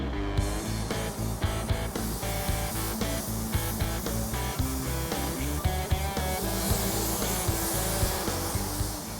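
Black epoxy primer sprayed onto a 1960 Ford F100 pickup during a restoration, a steady continuous hiss of the spray gun running almost unbroken, partly blended with background music, with no speech.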